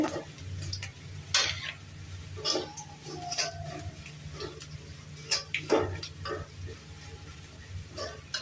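Cumin, radhuni, fennel, nigella and mustard seeds with bay leaf fry in oil while a utensil stirs them. Close, irregular clicks and scrapes sound over a faint low sizzle, and no one talks.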